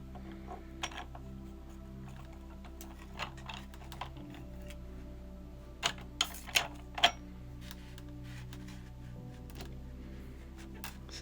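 A ribber is set onto a Dean and Bean circular sock knitting machine with scattered light metallic clicks and taps, clustering into a few sharper knocks near the end, over a faint steady hum.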